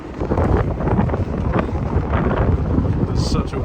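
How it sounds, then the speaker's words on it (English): Strong wind buffets the microphone below Tower Bridge on the London riverside, a loud, continuous low roar with gusty surges throughout, steady and close. "You probably can't hear me because it's so windy."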